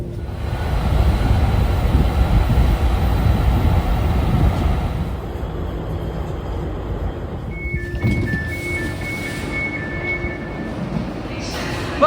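A DLR B23 stock light-rail train runs along the track with a loud rumbling roll that quiets after a few seconds, followed by a steady interior hum and brief electronic tones.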